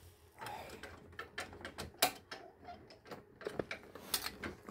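A wrench works stiff bolts loose on a Honda Fit Hybrid during clutch release mechanism service, producing a close, irregular run of sharp metallic clicks and ratcheting ticks with brief pauses.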